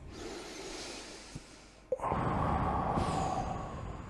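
A single deep breath drawn in, loud and close, followed by a sustained exhale of breathy air with no talk over it.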